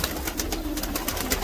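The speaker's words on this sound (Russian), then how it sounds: "Голубей много." Pigeons coo steadily on a city street, a soft murmuring flock heard up close with faint outdoor background noise.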